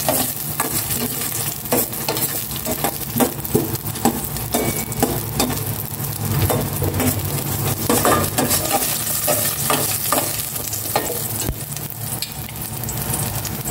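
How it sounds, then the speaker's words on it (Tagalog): Garlic and a salmon head sauté in hot oil for a sinigang, a steady close sizzle with frequent scraping stirs and clinks of a utensil against the pan, no talking. "Gisa ko na rin itong bawang."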